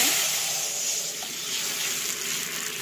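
Water from soaked amshi (dried mango) poured into a hot kadai of oil with five-spice tempering, producing a loud, close, hissing sizzle that stays steady throughout.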